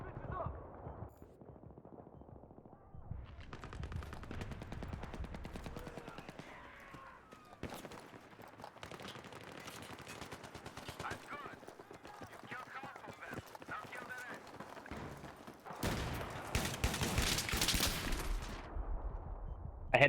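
Bursts of rapid video game gunfire crackle through a shootout, with scattered shots throughout and a dense, loud volley near the end, while players talk over the action.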